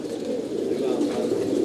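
Pigeons cooing in a loft, a steady low murmuring coo that runs throughout at fairly close range, with no clear breaks between calls.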